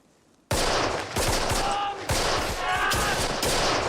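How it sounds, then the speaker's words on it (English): Heavy gunfire in a Band of Brothers war scene: loud, dense rifle and machine-gun bursts crackle nonstop after a sudden start, close and overwhelming. "it looks like they're shooting into a ditch or something"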